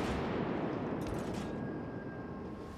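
Ship guns firing in the naval combat game World of Warships Legends, with a thick, continuous roar of booming cannon blasts and rumbling gunfire filling the whole stretch, loud and dense, with no speech.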